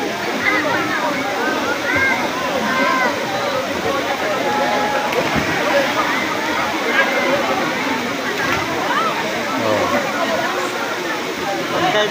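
The Daranak Falls waterfall roars steadily and close on a busy Sunday, with a constant broadband rush of falling water and splashing. Crowd chatter and voices blend faintly into the roar throughout.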